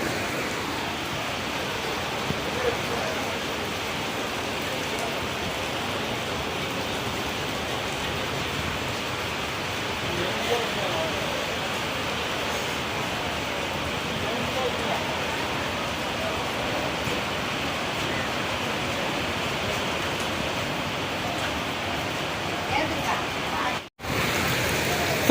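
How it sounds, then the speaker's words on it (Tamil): Heavy rain falls at Besant Nagar beach in a steady, even hiss that holds unchanged for the whole stretch. There is a brief dropout near the end. "உட்கார கூட முடியாது அவ்வளோ மழை"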